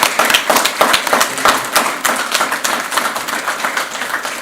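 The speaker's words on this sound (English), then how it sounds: "Please join us in a round of applause for the Wallfellows Class of 2022." An audience at a Wall Fellows induction ceremony gives a round of applause, dense, close and loud hand claps in a steady sustained burst that eases slightly toward the end, with no talking.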